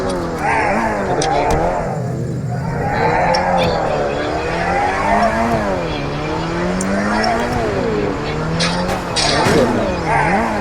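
A car engine revs and surges continuously, rising and falling in pitch as it accelerates, with a hint of tire noise and faint voices underneath.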